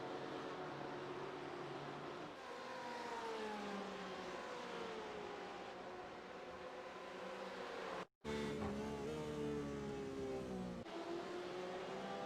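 A long line of about seven or eight GTE race cars streams past together at the Nürburgring in a racing game, engines droning and rising in overlapping pitch, steady and loud with a brief cut partway through.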